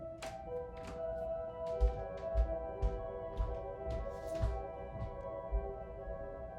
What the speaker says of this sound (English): This is what the distant harp echo sounds like.